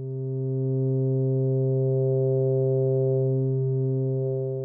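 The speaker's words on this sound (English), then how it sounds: "Start increasing the FM depth." A Eurorack synth filter is driven by frequency modulation from a triangle oscillator as the FM depth rises, giving a steady, buzzy harmonic drone that holds evenly throughout with slight shifts in its upper overtones.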